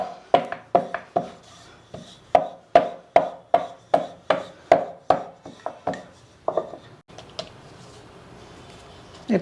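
A plate pressed down repeatedly to trim a millet roti into a round, about a dozen sharp evenly spaced knocks on a board, then softer scraping, with a faint voice under them.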